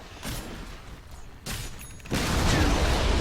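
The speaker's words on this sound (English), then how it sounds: "the Rocket Barrage flying out" Gyrocopter's Rocket Barrage fires in Dota 2 as bursts of rapid rocket launches, with two short volleys followed by a louder, sustained stream of whooshing blasts.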